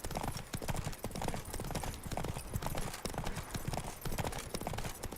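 Horse hooves clip-clopping in a steady trotting rhythm while riding in The Witcher 3 video game, close and continuous, with faint voices in the background.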